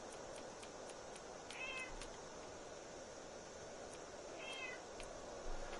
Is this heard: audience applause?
no